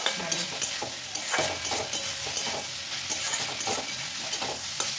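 Paneer frying in a kadai with ground cumin and black pepper gives a steady, close sizzle, broken by repeated scraping strokes of stirring throughout.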